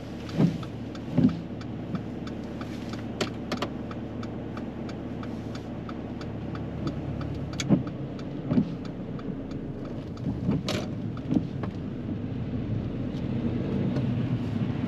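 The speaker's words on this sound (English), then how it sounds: "Drive off when you're ready." A learner's car pulls away from the roadside kerb during a driving lesson, a steady engine hum with muffled clicks and a couple of louder thumps inside the cabin, no talk.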